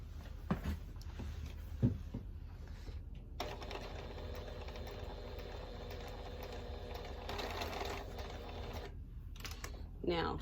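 Home sewing machine stitching a quilt seam, a steady mechanical whir running continuously through most of the stretch between brief pauses, close and moderately loud, with a few soft handling clicks at the start and end.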